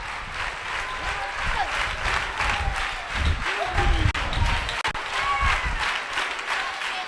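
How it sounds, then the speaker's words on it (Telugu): A church congregation claps together in a loose, sustained round of applause, fairly close, with a voice speaking over it. "నువ్వు క్లాసుగా చప్పట్లు కొడుతున్నావు"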